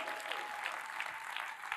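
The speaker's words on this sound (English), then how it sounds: "Clap it up for you guys." Audience applause at a live event after a fundraising announcement, a faint, steady wash of clapping with soft rhythmic swells, heard at a distance.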